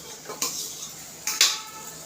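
Boiled potatoes being mixed into spiced masala in a pan for bread pakoda filling, with a few sharp metal spoon clinks and scrapes against the pan over a quiet background.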